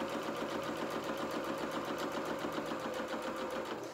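A sewing machine runs at a steady, rapid mechanical rhythm, stitching a row close to a seam allowance on a small fabric doll dress, loud and even throughout with no talking.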